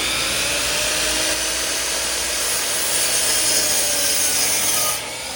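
A handsaw rasps steadily through a new wooden deck board being trimmed to fit during a rotten deck board replacement, a continuous close scraping that runs for several seconds before easing off near the end.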